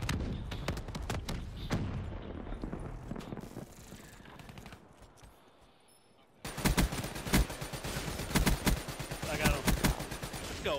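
Hellstorm missile strike in Black Ops 3, heavy rapid impacts and explosive thuds, a burst of blasts, then a lull and a louder second barrage of pounding hits with gunfire.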